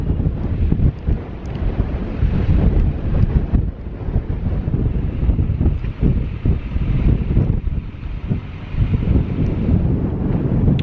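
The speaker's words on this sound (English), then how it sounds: "Wow, it's windy. Woo! Really, really, really windy." Strong wind buffets and roars continuously around a parked RV, loud gusts rumbling close with a constant blustery rush and no clear pauses.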